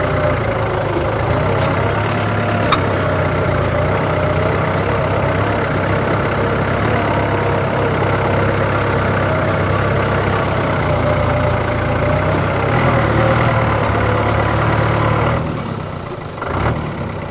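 A poultry farm's feed-making machine runs with a loud, continuous motor drone and hum that holds steady before dipping briefly near the end, with no voices.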